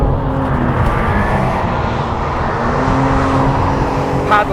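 An Aston Martin Vanquish, rated at 824bhp with a paddle-shifted 8-speed automatic, pulls hard with a loud, continuous engine roar whose pitch rises across the run and a brief sharp noise at the end.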